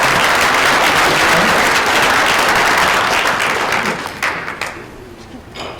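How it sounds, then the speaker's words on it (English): At a town meeting, the room applauds first-time attendees with loud, dense clapping that lasts several seconds, then tapers into a few scattered claps. "let's give them all a round of applause"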